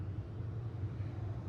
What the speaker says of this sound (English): Cars idle down the back straightaway.